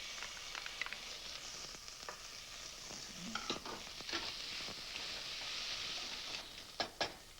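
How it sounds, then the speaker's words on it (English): Garlic and peeled red peppers sautéing in a pan, a faint steady sizzle with soft scrapes and taps of stirring scattered throughout, no speech. "So I like to start my sauteing and then add the garlic."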